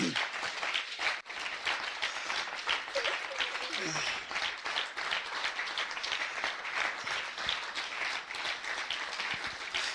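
A church congregation claps and cheers in a sustained, dense wash of applause, with voices calling out throughout over the crowd noise.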